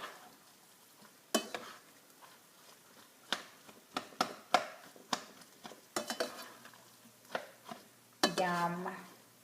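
Italian sausage rice is stirred in a hot pan with a utensil. Soft sizzling sits under sharp, irregular scrapes and clinks of the spoon against the pan, ending in a longer scraping stir, close and fairly quiet.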